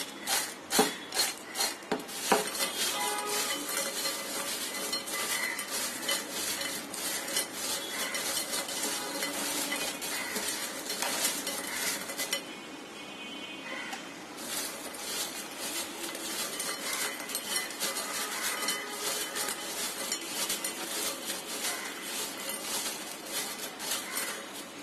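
Homemade kurkure chips tossed with spices in a bowl, a long stretch of crisp rustling and scraping as the pieces are mixed by hand, close and steady with a brief lull partway through.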